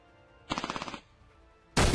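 Gunfire in the video game Frontline: Road to Moscow: a quick burst of about eight evenly spaced shots, a short pause, then a louder blast cut off at the end.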